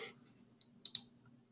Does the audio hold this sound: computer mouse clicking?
yes